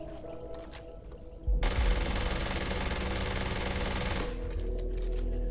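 The Mag Shear weapon in a video game fires a fast, dense rattling burst lasting a few seconds, loud and continuous over faint background game sounds.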